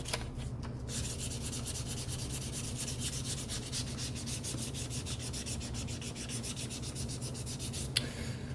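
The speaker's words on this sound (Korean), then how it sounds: "튀어 올라온 부분이 있거나 그러면 이렇게 다듬어 주는 거죠" Steady, close rubbing and light sanding as raised spots are smoothed on the dried edge coat of a leather travel bag under restoration, a continuous even scrape with no talk.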